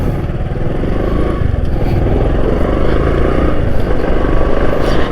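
A motorcycle rides along with its back brake applied, a loud, steady engine and road rumble close up with slight fluctuations and no talk.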